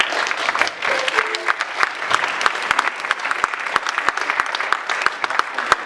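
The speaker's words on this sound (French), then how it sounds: "Vous pouvez les applaudir." A hall audience at a French national forum applauds invited speakers as they come up, dense steady clapping throughout with a few sharper individual claps standing out, fairly close and loud.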